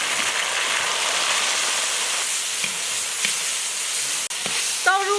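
Doubanjiang bean paste and small chili peppers frying in a hot wok, a loud, steady sizzle with occasional stirring clinks and a brief scrape, close and continuous.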